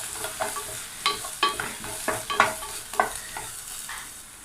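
Urad dal and onions sizzling in hot tempering oil with mustard seeds for a Malabar spinach curry, a steady close fry broken by several sharp stirring scrapes of a spoon in the pan.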